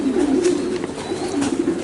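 Racing pigeons coo steadily in a loft, a continuous low murmuring of several birds close by, with soft rises and falls and no talk over it.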